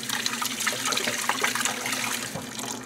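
Steady running water splashes over surgical instruments being rinsed at a sink after soaking in distilled water, a continuous close gushing wash with no speech.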